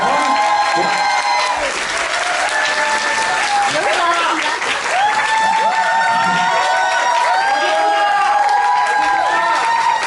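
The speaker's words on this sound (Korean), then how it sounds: "큰 박수 한번 받으세요." A large audience at a voice-acting academy event gives a long, full round of applause with some cheering, a thick continuous roar of clapping while a voice speaks over it and music plays underneath.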